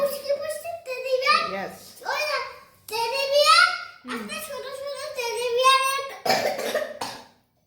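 A child coughs several times in bursts, loud and close, with talking in between.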